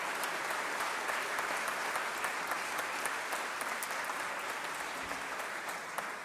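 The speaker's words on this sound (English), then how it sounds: "Let's just give them a round of applause." A crowd at a state judiciary address applauds steadily throughout, a dense, even wash of clapping with a few sharper claps standing out, and no talk over it.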